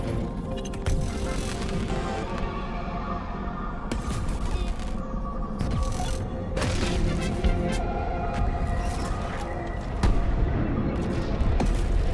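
Fortnite one-time event in which the map explodes, with repeated booms and crashing blasts over a dense rumbling game soundtrack, loud and continuous with sharp bursts throughout.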